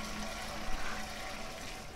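Water being poured in the video game Beyond: Two Souls, a brief steady trickling gush at moderate level with no talking.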